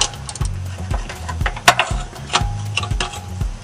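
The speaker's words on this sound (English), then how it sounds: "I'm going to loosen this bolt up here." A ratchet with a 12 mm socket loosens an exhaust bolt on a Honda Express NC50 moped, giving a series of close, crisp clicking bursts with short pauses between strokes.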